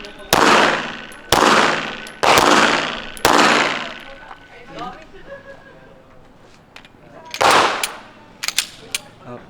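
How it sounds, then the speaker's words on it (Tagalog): Several loud gunshots ring out in quick succession at a firing range, each with a sharp crack and ringing decay, followed by quieter talk and a few more shots near the end. "Ang saya pala dito sa firing."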